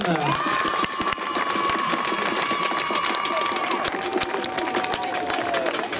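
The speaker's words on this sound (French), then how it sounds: "Vos applaudissements pour la vice-championne de France, Ophélie Schramm" Audience applause and cheering fill an equestrian dressage awards ceremony as the junior vice-champion is honoured, a dense, steady wash of clapping with a long sustained tone over it.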